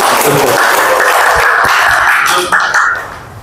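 Audience applause at a school guidance counselors' training session in Cilacap: a steady wash of clapping that holds for a few seconds, then thins and fades toward the end.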